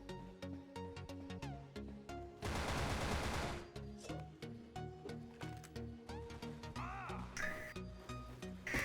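Gunfire in the online shooter Wolfteam: rapid bursts of shots over steady game music, with one dense, loud stretch of sustained automatic fire in the middle.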